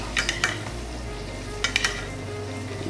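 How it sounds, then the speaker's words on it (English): Meat sizzling steadily in a hot pan with browning garlic and rosemary while a spoon bastes it, a constant close frying hiss broken by a few quick metallic clinks and scrapes, no talking. "So we'll do a little more basting here."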